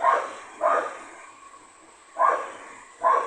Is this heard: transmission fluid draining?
no